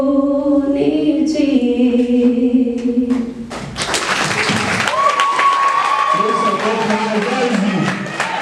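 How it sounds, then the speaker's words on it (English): Music with singing gives way to a loud round of applause and cheering from a crowd, with a sharp whistle cutting through. "Round of applause."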